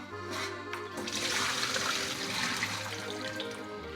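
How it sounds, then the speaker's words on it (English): Whey from homemade Brie cheese pours from a roasting rack into a kitchen sink, a steady close splashing trickle of liquid running for several seconds with no talking. "I'm going to drain that whey right into the sink because I don't need it."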